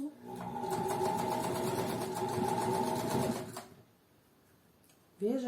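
A sewing machine runs a seam with a backstitch at the start, a fast, steady rattling whir for about three and a half seconds that stops abruptly, then near-silence and a brief clunk.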